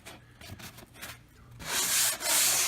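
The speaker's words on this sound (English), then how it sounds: "We're going to give it a good sand. We're going to use this sanding block." A sanding block scrubs over dried drywall joint compound on a repaired wall, producing soft, short rubbing strokes that swell into a louder, harsher sustained scrape near the end.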